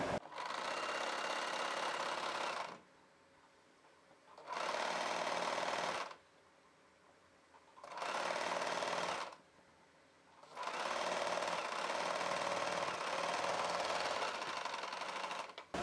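An electric sewing machine fitted with a zipper foot stitches thread piping in four sustained bursts of steady, fast whirring, with brief quiet pauses between runs.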